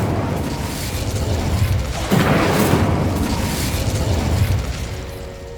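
The Incendio fire spell is cast in the video game Hogwarts Legacy, a sudden whooshing burst that swells into a sustained fiery roar before slowly easing off.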